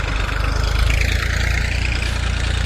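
A tractor engine running in a farm field, a loud steady low rumble with a fast throbbing pulse, close and continuous with no talking.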